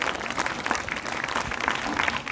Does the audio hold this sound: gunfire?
no